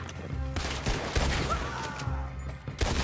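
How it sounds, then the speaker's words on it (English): Gunfire in Red Dead Redemption 2 crackling through a busy outdoor scene, several sharp shots at irregular intervals over about three seconds, fairly close and loud. "I just shot the wrong guy"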